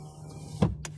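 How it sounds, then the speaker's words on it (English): A short electric whir of a 2006 Peugeot 107's power window rolling up, ending in a soft bump as it seats, fairly quiet inside a still car. "as well as roll the window up."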